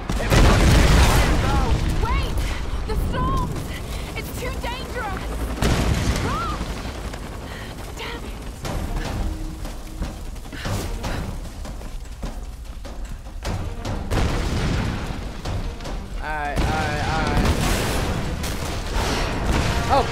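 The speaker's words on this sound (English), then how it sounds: "We're taking fire." Repeated gunshots and booming explosions fill a Tomb Raider video game firefight, coming in loud, uneven bursts over a continuous rumble while a person talks over the action.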